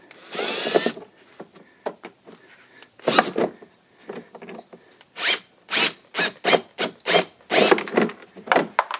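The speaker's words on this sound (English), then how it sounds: "I got out a 3/16 drill bit to drill these out the rest of the way" A drill with a 3/16 bit bores out holes during a tow bar receiver hitch install on a 2004 Volvo XC70, coming in short, repeated bursts with brief pauses between, close and fairly loud.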